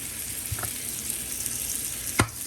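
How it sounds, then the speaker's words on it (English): Steady, close sizzling and crackling of blackened chicken frying in a hot pan, with a couple of soft knocks of a utensil against the pan. "listen to the sizzle"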